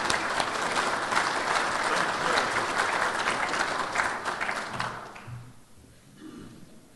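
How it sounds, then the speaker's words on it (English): Warm audience applause welcoming a speaker at the Georgia Cotton Commission annual meeting, dense steady clapping that thins and fades out near the end as a voice begins. "So let's give Richie a warm welcome and applause."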